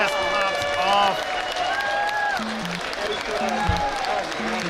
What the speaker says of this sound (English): That's the loudest we've heard the crowd thus far